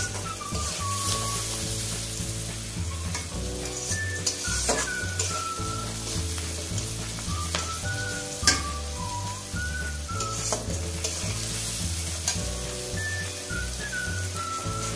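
Spices sizzling and being stirred in a pan while ghugni cooks, a continuous close fry with occasional scrapes, and a whistling melody playing throughout.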